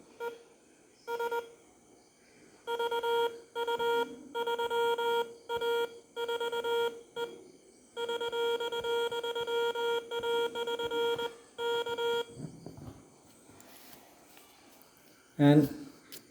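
Keyed CW Morse code tones from a capacitive touch keyer, a steady single-pitch beep broken into rhythmic dots and dashes in bursts, fairly close and clear, with a brief thump near the end.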